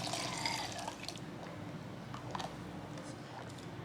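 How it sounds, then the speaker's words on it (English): Water runs and splashes softly as a kitchen blender jar is rinsed out while corn soup is being made. The sound is a faint, continuous trickle with a few brief drips and splashes. "I'm gonna wash out my blender a little bit."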